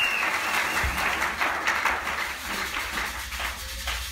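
A church congregation claps and applauds loudly and continuously, a dense wash of many hands that fills the room without pause and holds a steady level throughout.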